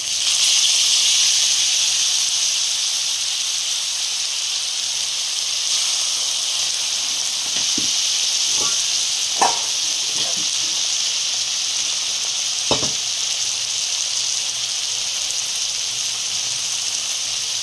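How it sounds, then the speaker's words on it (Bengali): Cumin, ginger and chili paste fries in a pan for a banana-flower dish, a constant bright hiss of sizzling oil with a few soft clinks and scrapes of stirring, close and steady. "আর দিচ্ছি এখানে জিরে আদা লঙ্কা পেস্ট।"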